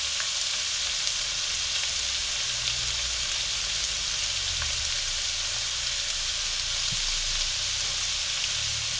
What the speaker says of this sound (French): Donc on laisse cuire tout doucement. On remue de temps en temps. On rajoute l'échalote.